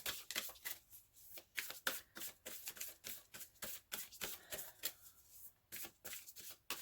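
A deck of oracle cards being shuffled by hand, crisp repeated riffling bursts in a steady rhythm, close and fairly quiet, with no talking.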